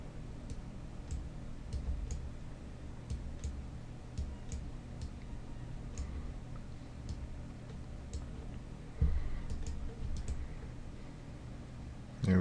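Computer mouse clicking at a desk, a string of faint, sharp clicks spaced irregularly over a low steady background hum, with one slightly louder bump near the end.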